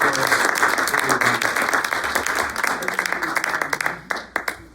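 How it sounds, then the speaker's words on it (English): An audience claps steadily, a dense crackle of many hands that thins out and becomes scattered near the end. "One more round of applause for all three, Walter Ken, Mrs. Torres, Michael"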